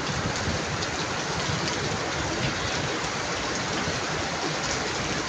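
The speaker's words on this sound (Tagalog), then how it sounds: "Heavy rain." Heavy rain pouring steadily, a dense, loud, unbroken hiss with no voices.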